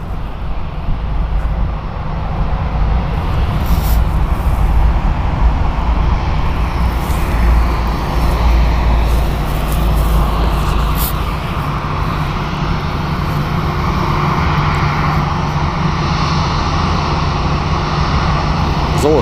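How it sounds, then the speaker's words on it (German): A Condor Airbus A330 passes over the bridge at Frankfurt Airport, its engines producing a steady, loud roar that fills the whole stretch with little change in level. "Second Condor A330 over the bridge in this stream."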